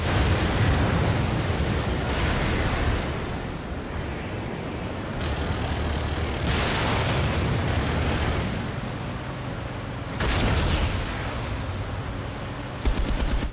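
Explosions and rapid gunfire in the PlayStation 3 game Warhawk, dense bursts of blasts and automatic fire rolling one over another, loud and continuous with several sharp peaks.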